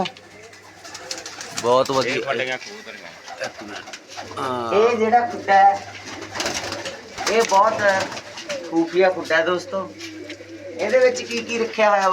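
Pigeons coo in soft, repeated low warbling bursts nearby while people talk over them.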